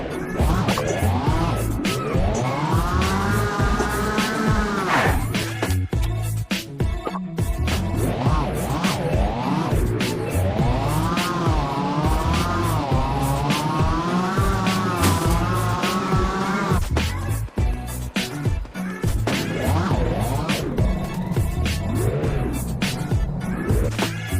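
Vehicle driven in a shooting video game, a loud continuous engine drone that rises and falls in pitch as it speeds up and slows, with a few thuds along the way.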